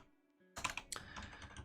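After a near-silent start, a computer keyboard bursts into quick, close typing, a steady stream of soft clicks that keeps going to the end.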